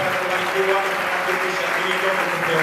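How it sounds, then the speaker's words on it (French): A church congregation applauds loudly and continuously for the Lord, a dense, even roar of clapping with faint voices mixed underneath throughout. "Je voudrais qu'un peuple élu et saint acclame encore très très fort pour le Seigneur"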